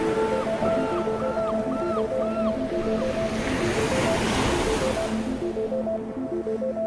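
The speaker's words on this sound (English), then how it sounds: "An electrical storm shakes the sea." Sea waves surge and break steadily during an electrical storm, a loud, continuous roar of surf and wind, with bright tonal whistling layered over it and no voices.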